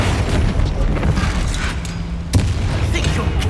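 A Confringo spell blast in Hogwarts Legacy combat: a loud, sharp explosive boom cracks over ongoing battle noise, with rumbling impacts around it.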